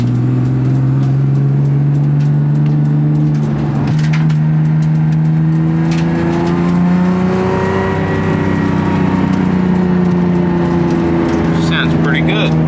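A BMW E36 M3 race car with a custom-built exhaust drives around a neighborhood. The engine drones loud and close, rising and falling in pitch as it accelerates and eases off, without a break.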